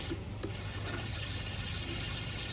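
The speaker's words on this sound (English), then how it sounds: "I'm just trying to prime the machine so the water is inside and all the air bubbles are out" Water running into a Simpson pressure washer as it is primed, a steady close rush of filling water that continues without a break, with no voices.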